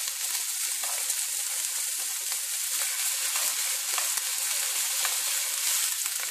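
Pancetta frying in a hot pan, a steady close sizzle and crackle with small pops scattered throughout and no voices.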